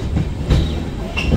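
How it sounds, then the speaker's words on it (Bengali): A Purulia–Howrah superfast express pulls into Adra junction, with loud, steady rumbling and rhythmic wheel clatter heard close from on board, plus brief metallic squeals. "আমাদের ট্রেন এখন ঢুকছে হলো আদ্রা জংশনে"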